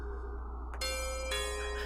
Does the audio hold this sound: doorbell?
yes